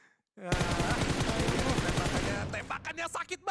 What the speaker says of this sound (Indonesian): Tembakannya sakit banget Eldoge.